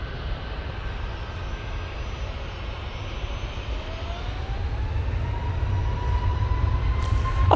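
A TUI Boeing 737 MAX 8 jet departs Manchester Airport, a continuous engine roar with a slowly rising whine that grows gradually louder toward the end, heard alone without talk.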